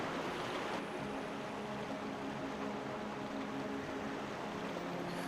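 Water in a Zelda: Twilight Princess dungeon rushes and washes as a steady broadband wash, like surf or a stream. It stays even and unbroken for several seconds, with no other sounds over it.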